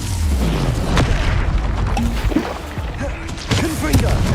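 A fire spell cast in the video game Hogwarts Legacy, a dense roaring whoosh with low booming bursts, loud and sustained for several seconds with a brief pitched tone mid-way.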